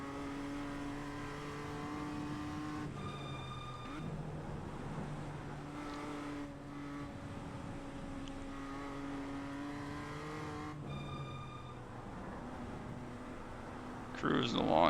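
BMW M2 CS race car in iRacing on the Nürburgring, cruising with a steady droning engine note that rises and falls through gear changes, heard over a background of talk.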